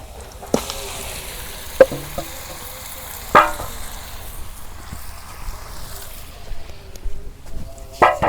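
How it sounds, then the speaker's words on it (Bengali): Beef pieces hit hot oil with browned onions and fry with a steady soft hiss, punctuated by a few sharp clinks and scrapes of a spoon against the pot. "এখন আমি মাংস বাগার দিই।"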